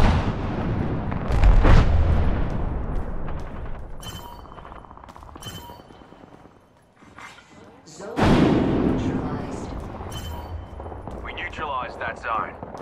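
Arc star grenade blasting in Apex Legends, two heavy bursts several seconds apart, each followed by crackling and rumbling, with a character voice speaking between them over steady game noise.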